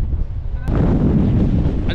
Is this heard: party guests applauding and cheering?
no